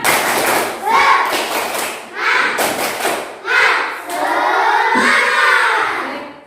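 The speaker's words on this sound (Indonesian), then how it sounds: "Coba 1 kali tepuk semangat" A group of children claps together in a rhythmic pattern, several loud synchronized bursts, ending with a cheer-like shout.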